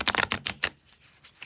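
A new deck of playing cards riffle-shuffled, with a quick run of dense crisp flutters followed by a softer settling patter, close and alone without talk.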